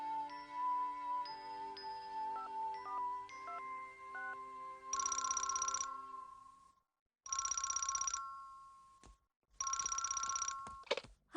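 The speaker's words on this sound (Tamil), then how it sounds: "சுசுகா உனக்கு போன் வந்திருக்கு, வா." A telephone rings in a Doraemon cartoon, an electronic ringtone sounding in several repeated bursts separated by short pauses, clear and without talk.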